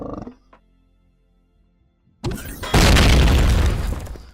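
In the video game Empyrion Galactic Survival, a sudden loud blast erupts on a space station after a near-silent pause, followed by a sustained roaring rumble of debris.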